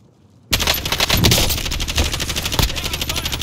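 Rapid gunfire in Call of Duty: Warzone Resurgence bursts in after half a second of near silence, with dense automatic bursts sustained loud and close to the end.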